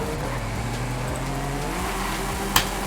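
Chevrolet Impala engine in Forza Horizon 5, a steady low rumble with shifting harmonic tones as it drives, closing with a brief sharp transient near the end; no talking.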